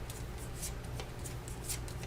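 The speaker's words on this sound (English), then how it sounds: "Alright, and then we will shuffle this." Playing cards being shuffled by hand for a tabletop card game, a soft, quiet run of riffling flutters and light papery snaps over a low background hum.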